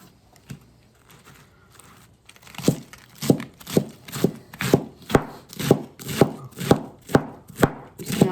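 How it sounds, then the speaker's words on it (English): A knife chops lettuce on a cutting board for a taco salad, starting with a few soft scattered taps and then settling into a steady run of about a dozen loud, evenly spaced crisp chops, close up, with no talk. "I'm gonna chop this away too, because it's not as thin as that"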